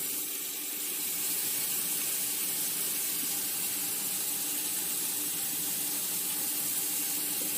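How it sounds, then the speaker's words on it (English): Water from a can of green chiles draining into a kitchen sink, a steady broadband hiss and trickle that runs evenly and continuously at close range, with no voices. "I'm going to drain the water out of these."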